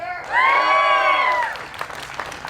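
A crowd at an outdoor political rally at Nicollet Commons in Burnsville, Minnesota, bursts into loud cheering and whoops that swell, hold briefly, then fade into scattered claps and voices.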